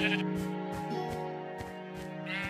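Sheep bleating in Minecraft, a few drawn-out wavering bleats close by over a steady background tone.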